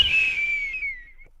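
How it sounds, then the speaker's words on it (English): A single shrill whistle sound effect, a bright tone that slides slowly downward and fades out over about a second, heard alone and fairly loud. "That's that booger whistle, baby. You knew the booger whistle was going to make an appearance."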